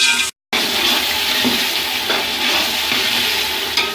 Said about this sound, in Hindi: अब इस मसाले को भूनना है हमने